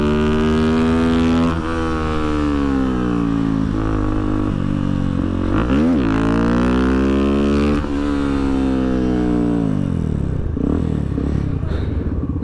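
A motorcycle engine during wheelie practice in second gear roars loud and close, its pitch sweeping up and down as the throttle opens and closes before dropping away near the end.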